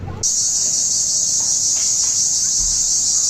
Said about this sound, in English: There's so many fucking crickets.